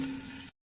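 Food frying in a covered pan, a brief steady sizzle that cuts off abruptly, then a short loud knock at the end.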